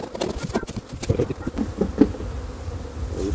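Honeybees buzz around beehive frames as a beekeeper works an open hive, a steady close hum with brief louder swells and faint handling knocks, no talking.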